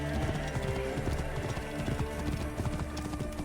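A horse gallops in the Assassin's Creed Origins video game, its hooves drumming in a rapid, continuous, rolling clip-clop that stays loud and close throughout.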